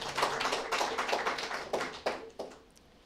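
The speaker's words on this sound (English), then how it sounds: "Let us give a round of applause for everyone present in this event today." People at a provincial roadshow event clap for everyone present, a modest scattering of hand claps that thins out toward the end.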